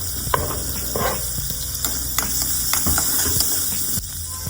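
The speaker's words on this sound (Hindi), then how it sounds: "अब मैंने कढ़ाई में थोड़ा सा बटर लिया, इसमें चॉप्ड गार्लिक ऐड किया एंड एडेड सम ब्रोकली और थोड़ी देर उनको ब्राउन होने के लिए छोड़ दिया।" Butter sizzling in a kadhai with chopped garlic and broccoli, a steady close hiss with scattered small crackles and pops throughout.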